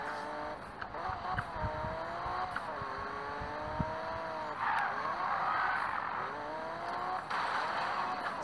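A racing car in Need for Speed (2015) revs and shifts through rising and falling engine tones, with brief tire skids and whooshes as it speeds along. It stays moderately loud throughout.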